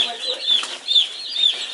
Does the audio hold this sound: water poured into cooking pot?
no